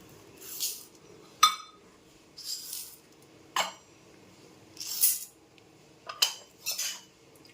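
Soaked rice and lentils are washed in a bowl, with intermittent swishing, splashing bursts and light clinks of a utensil against the bowl, each lasting about half a second, with no voices.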